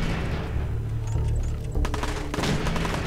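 Rapid bursts of Fallout 4 gunfire crackle and boom in quick succession, dense and loud, with a few heavier thuds mixed in.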